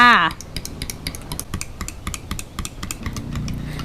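Spoon clinking against the sides of a cup or pot while stirring milk tea with evaporated and condensed milk, quick irregular metallic taps close by, after a brief voice at the start.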